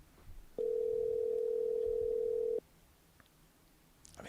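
A single steady ringback tone plays for about two seconds on a call to a mobile number, over a quiet room background.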